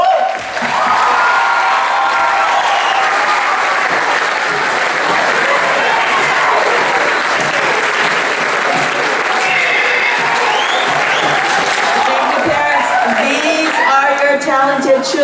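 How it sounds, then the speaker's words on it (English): A school spring concert audience gives loud, sustained applause with cheering and whoops, dense clapping filling the whole stretch, a few shouts rising near the end. "So a big round of applause!"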